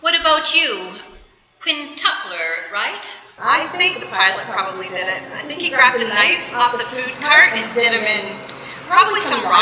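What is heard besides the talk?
None of the usual background noises is heard.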